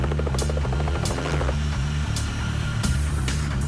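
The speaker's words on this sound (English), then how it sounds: "Helicopters are a really efficient way to get around in the mountains." A helicopter flying in the mountains, a steady close rotor drone and hum with periodic whooshing blade sweeps throughout.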